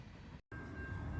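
A CN freight train, M338, led by Dash 8 locomotives passes at night with a steady low rumble and a faint tonal hum, broken by a very brief dropout.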